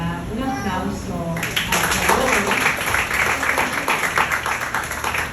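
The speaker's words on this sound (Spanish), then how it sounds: "Un aplauso" Someone speaks briefly before a women's church gathering breaks into applause, a steady patter of clapping that carries on to the end.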